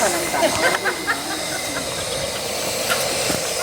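Steam locomotive River Esk standing in steam at the Ravenglass & Eskdale Railway, giving a steady, loud hiss of escaping steam with faint mechanical clanks and distant voices behind it.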